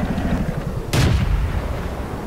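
A single loud tank cannon shot booms once in World of Tanks, a sharp broadband blast with a rumbling low tail over steady engine hum.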